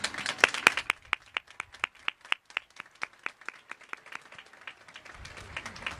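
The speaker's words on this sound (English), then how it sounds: "Let's give them a round of applause." Scattered applause at a high school graduation ceremony for marshals and educators. A few distinct claps ring out in a fairly sparse, regular rhythm, and a soft murmur of crowd noise rises near the end.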